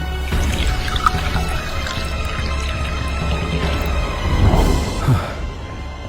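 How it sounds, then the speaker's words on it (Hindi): Water is sprinkled onto a small mound of soil with seeds in it, giving loud splashing and pattering drips over a steady background of music, with a sharper splash near the end. "उसमें बीज डाला और पानी छिड़क दिया।"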